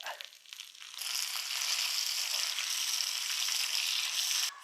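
Curry leaves and dried red chilies hit hot oil with shallots and mustard seeds, bursting into a loud, dense, continuous hiss that stays steady and close for several seconds, with no voices.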